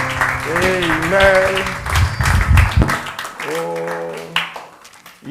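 Members of a church congregation clap and call out praise to Jesus while a voice sings and speaks over them, the clapping rising in bursts beneath the near, dominant vocals.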